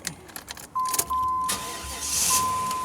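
A 1994 Cadillac Fleetwood engine cranks briefly and catches, then settles into a steady idle hum, with a faint electronic chime ringing through it.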